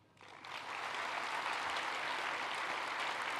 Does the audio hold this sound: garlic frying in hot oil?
no